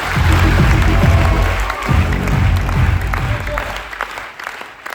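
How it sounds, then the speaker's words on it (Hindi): Loud applause and some cheering from an audience at a direct selling and network marketing event, strong at first and then thinning out toward the end. "give yourself एक जोरदार तालियां सभी के लिए"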